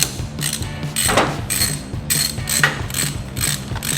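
A ratchet wrench clicks in quick rhythmic bursts, loosening old hardware on a Harley Sportster during mid-control work, close and alone with no talking.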